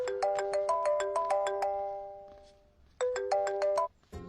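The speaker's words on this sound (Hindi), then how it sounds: "आपको किसी का फोन आ रहा है।" A phone ringtone plays a bright electronic melody of repeating tones, stops briefly, then starts again. It sounds fairly clear, with a short knock at the very end.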